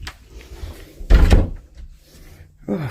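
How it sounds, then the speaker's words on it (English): A hallway door in a pub is kicked, giving one heavy thud with a rattle near the middle, set among quiet shuffling, and a short voice is heard at the end. "Oh, I kicked the door"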